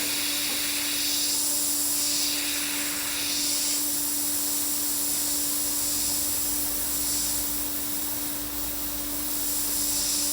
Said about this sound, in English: My white's spraying really nice today,